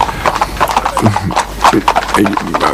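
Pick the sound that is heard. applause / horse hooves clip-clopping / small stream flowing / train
horse hooves clip-clopping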